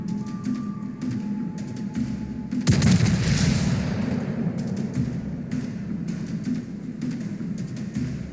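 Tank guns firing in World of Warships-style naval combat game play, one heavy booming blast with a long rumbling tail amid steady engine and ambient game noise, no talk.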